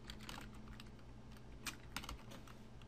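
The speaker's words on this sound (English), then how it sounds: "So we're going to type" Keystrokes tapping out a command on a computer keyboard while logging into a Minecraft Bukkit server, a steady close run of light clicks with a few sharper, louder presses.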